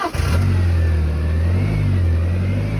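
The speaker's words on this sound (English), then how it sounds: "Sounds like it's out of gas." A car engine at a towing auction revs unevenly and sputters as if running out of gas, a loud close mid-pitched drone that holds steady for a few seconds with no talking.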